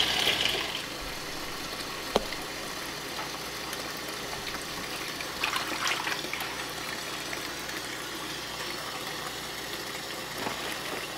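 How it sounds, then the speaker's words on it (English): An Avalon Bay EcoSpin machine spins water out of a small batch of wool, giving a steady whirring, rushing drone with trickling water and a few faint clicks, alone and without talk. "and then I'm going to spin the water out."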